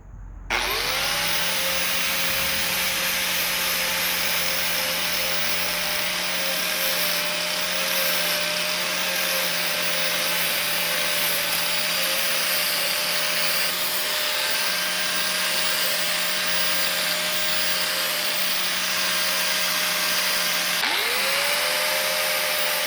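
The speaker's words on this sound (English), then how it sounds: "I'm going to take just a sandpaper disc and I'm going to go around here and bevel this back kind of down just a little" A power tool with a sandpaper disc whines steadily as it bevels the edge of a driveshaft slip yoke, a loud continuous high grinding hum that holds for about twenty seconds before briefly dropping and spinning back up.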